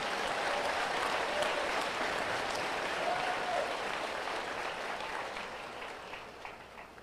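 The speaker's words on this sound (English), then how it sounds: "Please give yourselves a round of applause." A large crowd applauds at a Fort Jackson basic training graduation ceremony, a broad, continuous wash of clapping from many people, heard from a distance and gradually thinning as it goes on.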